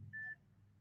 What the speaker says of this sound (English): I just heard a beep on my phone